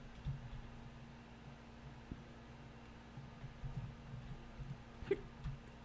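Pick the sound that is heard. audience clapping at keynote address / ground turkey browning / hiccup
hiccup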